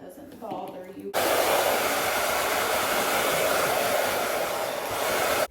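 A hair dryer clicks on after a brief soft rustle and then blows loudly and steadily, close up, to clear cut hair during a low fade haircut, cutting off abruptly at the end.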